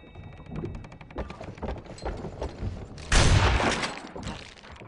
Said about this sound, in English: That shotgun is effective in close quarters only